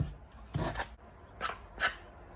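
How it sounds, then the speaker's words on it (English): Hand sanding of a wooden craft box in three short scraping strokes spaced apart, close and moderately quiet, with no talking. "we're going to sand it off"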